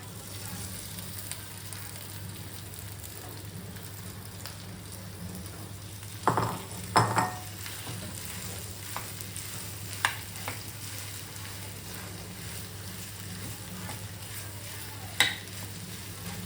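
Chole samosa masala fries gently in a pan while a spoon stirs it, a soft continuous sizzle broken by a few scraping knocks against the pan, close but quiet with no talking.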